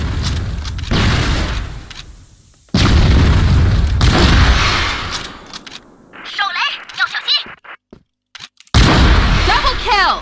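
Flash bomb and grenade blasts in the video game CrossFire: several heavy booming explosions with long rumbling tails, broken by short gaps and scattered sharp clicks and pops, loud and close.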